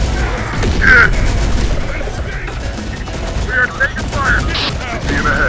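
Gunfire crackles in the video game Terminator: Dark Fate - Defiance, a busy battlefield of bursts and booms mixed with shouted voices and brief radio-like chirps.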